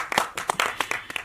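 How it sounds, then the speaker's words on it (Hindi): An audience at a film festival launch event claps in scattered, uneven bursts. The applause is sparse and fairly close, with a few separate sharp hand claps over about a second. "जो मोबाइल नहीं चला रहे प्लीज अपने लिए ताली बजा लें।"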